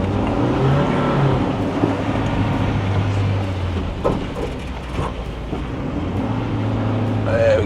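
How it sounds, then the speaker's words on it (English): A Foton TruckMate 1-ton truck accelerates on a test track with some wheel spin, its engine a steady loud drone with shifting tones. A person talks over it. "We're getting a bit of wheel spin"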